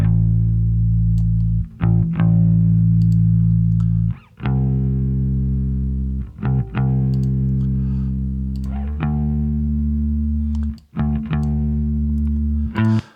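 An electric guitar runs through the Rumble Native amp in Fender Studio Pro with gain and blend turned up, playing sustained, gritty chords and notes with brief pauses between phrases, loud and close with no talking.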